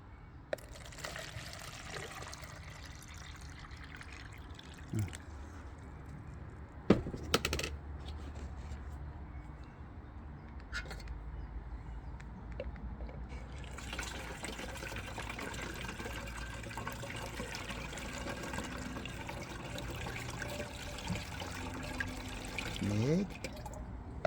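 Water poured into a garden sprayer tank while mixing a fungicide spray for tomatoes. A continuous close splashing and trickling stream runs for most of the clip, with a few clunks and someone speaking over it.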